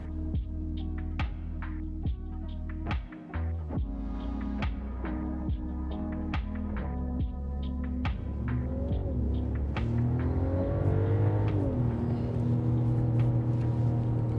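A 2024 Mercedes S450 LWB in Sport Plus mode, heard from inside the cabin: a low engine hum under steady ticking clicks that swells into a rising, louder drone as the car accelerates.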